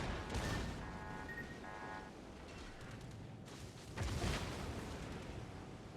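Naval gunfire from a cruiser shelling a ship in the World of Warships game: faint distant booming salvos with rumbling bursts, a couple of heavier blasts over a continuous low battle rumble.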